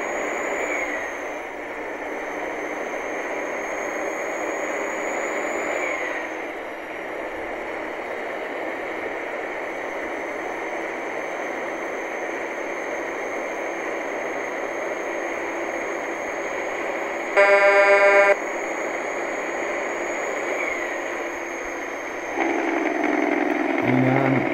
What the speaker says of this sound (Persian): اینم انجین بریک این ماشین، ترمز موتور.